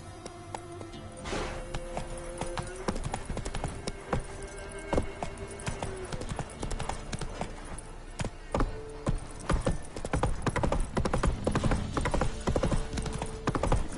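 Horse hooves clip-clopping in The Witcher 3: Wild Hunt as the rider sets off, a steady run of clear, moderately close hoof strikes with faint tack jingling, growing busier toward the end.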